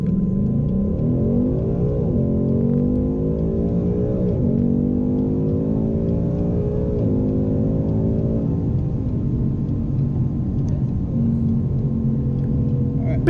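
A heavy muscle car weighing about 1,850 kilos, with a manual gearbox, accelerates hard at full throttle; a loud, steady engine roar climbs in pitch through repeated gear changes for the whole stretch, with no break in the sound.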